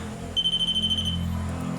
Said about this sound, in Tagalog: equipment na to is mag-a-alarm lang siya. Once na may dumikit dyan sa may antenna